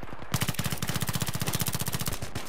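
Automatic gunfire in the video game Battlefield 3: a fast, sustained burst of loud, close machine-gun shots in rapid even rhythm, with a few single shots before it.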